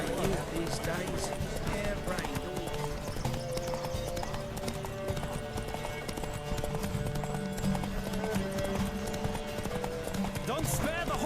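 A horse galloping in The Witcher 3, its rapid clip-clop hoofbeats running steadily through the whole stretch beneath game music and voices, with a brief whinny-like rise near the end.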